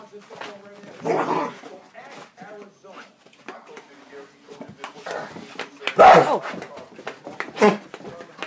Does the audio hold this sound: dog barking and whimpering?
yes